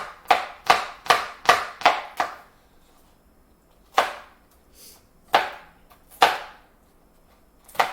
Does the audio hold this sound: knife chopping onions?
yes